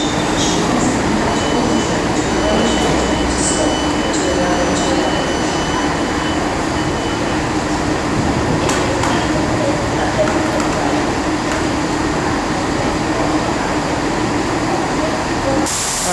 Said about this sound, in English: passing over here is 197012 with the 1219 Transport for Wales service to Crewe